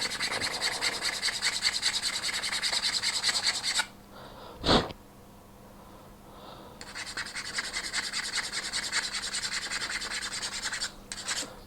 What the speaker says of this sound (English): I'm filing something